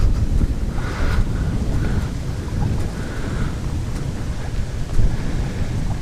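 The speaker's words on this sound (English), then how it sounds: "a very nice and a bit windy day" Steady wind roars and buffets against the microphone on a sailboat out on the water on a breezy day, a continuous rushing noise with occasional gusty thumps and no talk.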